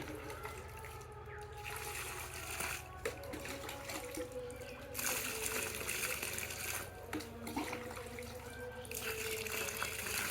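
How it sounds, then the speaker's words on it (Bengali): Water from a bucket poured onto the base of a lychee tree in dry winter weather, a steady splashing trickle running throughout at moderate, fairly soft level. "একটা গাছের ভিতরে 1 বালতি পানি দিচ্ছি"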